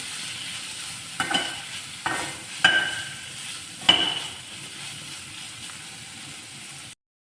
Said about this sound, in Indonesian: Sekarang kita masukkan sosisnya. Kemudian kita aduk. Kita tumis sebentar saja ya teman-teman.